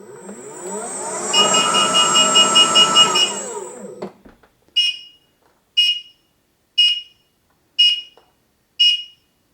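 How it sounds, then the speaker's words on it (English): A Gotway RS19 electric unicycle spins freely with its motor whining up and falling away, then its buzzer gives five loud, evenly spaced beeps, each sharp and alone. "the buzzer is sticking out, so you can really hear it no matter how fast you're going"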